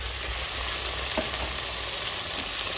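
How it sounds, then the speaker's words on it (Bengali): A fish head frying crisp in hot oil, a dense, loud, continuous sizzle with a brief stir in the middle, no voices. "মাথাটা কিন্তু একদম কড়া করে ভাজতে হবে।"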